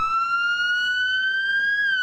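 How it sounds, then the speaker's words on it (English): An FDNY emergency vehicle answering a hazmat call in Manhattan sounds its siren, a loud, steady, piercing wail that holds nearly level pitch throughout, with no voices. "The serious siren. The don't play. It's really bad kind of siren."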